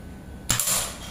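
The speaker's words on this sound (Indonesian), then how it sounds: "Tembakan ketiga" One crisp, close air rifle report from a folding Predator Monel Ataman with a 30 cm Yumaja seamless barrel, a sudden crack that decays quickly into a brief metallic ring.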